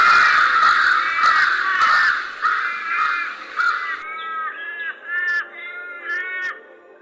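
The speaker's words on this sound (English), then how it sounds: "the crows that disturbed him while painting the wheat fields" Several crows caw repeatedly, loud and close, in ragged overlapping bursts that thin out into a few separate calls.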